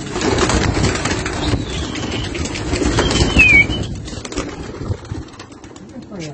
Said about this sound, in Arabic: هاي الطيور راح اطيركم اياهم